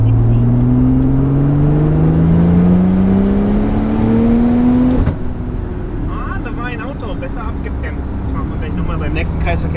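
Porsche 911 Turbo S tuned to around 800 PS accelerating hard on a road during a power run, loud rising engine note climbing steadily for five seconds before cutting off, followed by lower idle-like drone and faint chatter.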